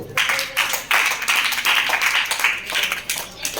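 Students in a classroom during a fractions lesson clap together in close, rhythmic bursts, a group of hands striking roughly in unison at a steady pace.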